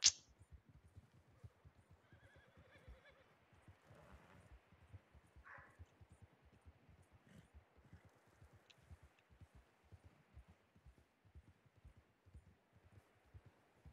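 A horse in Red Dead Redemption 2 trots with a steady, rapid run of soft hoofbeats, and a faint whinny comes briefly near the start. The whole scene stays quiet and even throughout.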